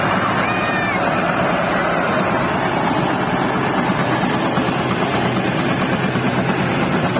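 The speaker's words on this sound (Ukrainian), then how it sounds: "І копають тракторцем." A small Orlik tractor engine pulling a Polish potato digger drones steadily throughout, a constant mid-pitched mechanical rattle with no break, close by and fairly loud.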